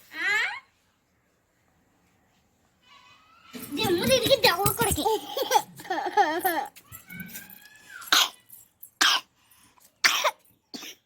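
A child coughs and clears the throat in bursts amid children's chatter and small voices, loud and close.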